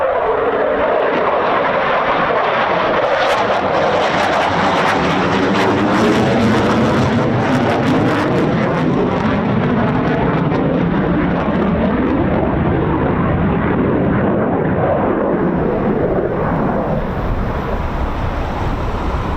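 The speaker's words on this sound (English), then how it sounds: "Nath, who's just coming into land now" A Eurofighter Typhoon FGR4 jet on approach to land at RAF Coningsby sounds as a loud, continuous roar that swells and holds steady, mixed with heavy wind buffeting on the microphone.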